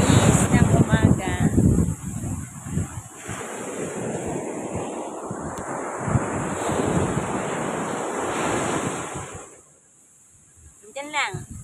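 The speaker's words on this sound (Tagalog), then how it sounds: "Malaki ang alon, hindi ko makaligo ngayon." Large ocean waves roar and crash in a continuous wash at six in the morning, mixed with heavy wind buffeting the microphone, and a voice speaks briefly over it.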